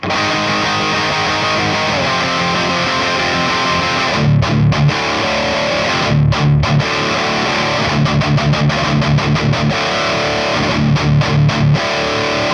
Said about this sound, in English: It's a quite satisfying and crunchy and tight tone with a lot of texture.